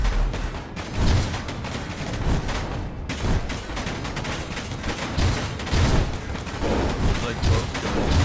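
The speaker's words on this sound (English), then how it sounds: "That's the gun that's shooting." Rapid gunfire and booming blasts from guns in a video game fill the whole stretch, dense and continuous with heavier bursts throughout, while a voice talks over the shooting.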